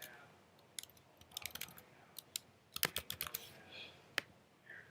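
Someone types a name on a computer keyboard, producing bursts of quick, close key taps in irregular clusters separated by brief pauses, with no talking.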